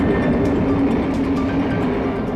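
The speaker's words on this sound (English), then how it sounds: "Our BLS train departs the Spitz station for the mile-long Hondrik Tunnel." A BLS passenger train pulls out of Spiez station in the Swiss Alps, heading for a mile-long tunnel, with a steady low rumble and faint wheel clatter, close and continuous.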